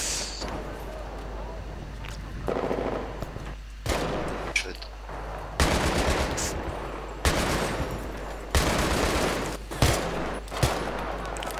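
Scattered gunfire in Battlefield 3 during a co-op mission, with separate shots and short bursts spaced across the stretch, some sharp and close, while players chat in French.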